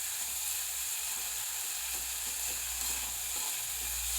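Herb roots dry-roasting in a pan, a quiet steady sizzle with faint stirring scrapes throughout and no speech.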